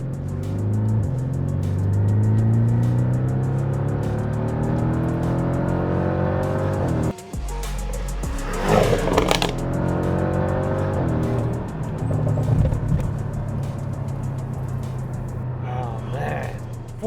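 A modified Porsche 718 Cayman base model with a 2-liter engine, Stage 2 tuning, accelerating hard in sport mode. It revs up through several gear changes, loud and steady inside the cabin, with a brief pause between shifts.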